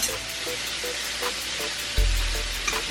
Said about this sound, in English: first we're gonna start out with some butter.